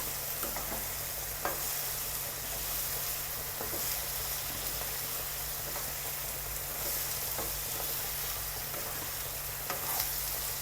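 Onions sautéing in a pan for biryani, a continuous soft sizzle with occasional scraping stirs of a spoon, steady and close with a low background hum, no talking.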